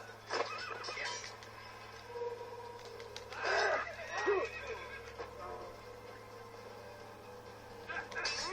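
A horse neighs in the Assassin's Creed video game: one loud whinny rises mid-clip, with soft hoof clip-clop, a steady low game hum and a brief voice cry near the start.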